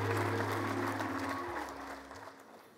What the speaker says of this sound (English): Can we clap for ourselves and for Mzee?